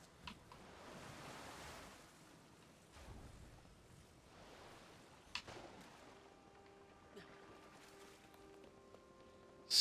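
Soft ocean waves swell and recede in slow surges while sailing in Zelda: Tears of the Kingdom, with faint wind, an occasional tap and a thin tonal chime rising near the end.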